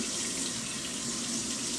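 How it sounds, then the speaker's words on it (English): Tap water pours steadily into a sink while a batch of tie-dyed shirts is rinsed, a continuous close, loud rushing flow with no talk. "I'm rinsing out a whole bunch of tie-dye"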